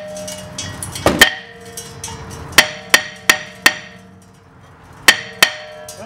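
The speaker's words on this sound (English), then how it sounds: "just a few light hammers will allow the whole thing to come off" Hammer blows knock a stuck front brake part off a Dodge Journey: sharp metallic strikes, a quick double hit followed by spaced single blows and another pair, ringing briefly in a quiet garage.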